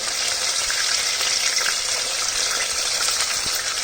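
Chopped onions and green peas fry in hot oil in a home kitchen, giving a loud, steady, unbroken sizzle that carries through without pause and with no talking.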